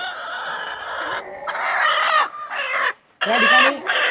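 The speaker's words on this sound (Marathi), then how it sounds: "या ठिकाणी कोंबडी अंड्यावरती बसवलेली आहे" A broody hen sitting on 20 eggs clucks and croons in drawn-out, throaty bursts, close and fairly loud, with a brief pause before a final louder call.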